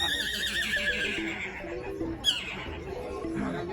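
A man imitates a horse's neigh with his voice at an outdoor flower festival in Medellín, a loud whinnying call with a rising squeal near the middle, heard over busy crowd ambience.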